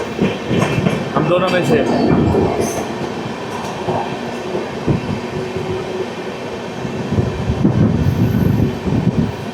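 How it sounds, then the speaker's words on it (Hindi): A Humsafar Express train rolls slowly alongside another express train, a steady rumble with rhythmic wheel clatter and occasional faint squeals, close and continuous while people speak briefly over it. "दोनों ही ट्रेन स्लो चल रही है"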